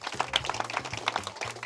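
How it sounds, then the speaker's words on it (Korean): Applause from an audience for the finalists of a drum competition semifinal, a brief spell of dense, steady clapping with a low tone running beneath it. "결승을 진출하게 된 최현호 군, 황태현 군, 이시영 군에게 다시 한번 박수 드립니다."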